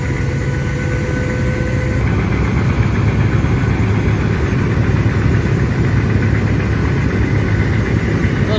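The engine of the passenger launch Karnaphuli 12, racing on a river, drones loud and steady at full power, a heavy continuous rumble with a rough, pulsing throb and no voices.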